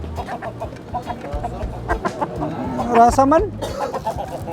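Native Siam breed chickens cluck and squawk close by at a street seller's stall, with irregular overlapping calls and a brief crow-like cry, while people talk over them.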